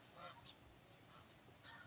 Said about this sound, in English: The geese are out.